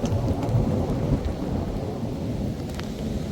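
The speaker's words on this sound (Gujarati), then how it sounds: "વરસાદ ચાલુ થઈ ગયો છે." Steady monsoon rain hisses close by at the Mahabaleshwar hill station under a low, continuous rumble of thunder, with no voices.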